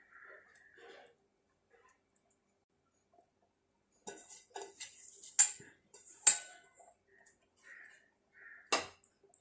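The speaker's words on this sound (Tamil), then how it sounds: "இதை நல்லா கிளறி விட்டுருங்க." Basmati rice for chicken biryani is stirred in a pot, giving sparse, quiet clinks and scrapes of a utensil against metal, with a few sharper taps between near-silent gaps.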